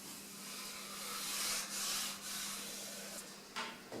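Oak wood being sanded by hand with fine sandpaper, a steady close rubbing hiss in long back-and-forth strokes with a few brief pauses and no voices.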